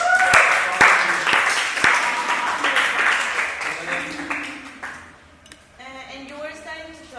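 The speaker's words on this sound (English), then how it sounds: "Let's give an applause to the audience" Audience applause in a classroom lecture setting, a broad wash of clapping that fills the first several seconds, loud and close, then thins out as a voice begins speaking.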